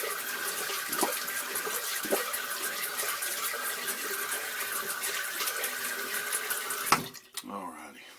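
Water runs steadily from a tap while a razor is rinsed during a shave, heard as a constant hissing stream with a few soft knocks, ending in a clatter and a brief splash as it stops.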